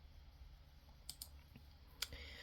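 Computer mouse clicks in a quiet room, two or three soft sharp clicks spaced about a second apart, faint and close, with no talking.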